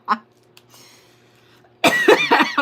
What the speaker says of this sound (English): also made myself cough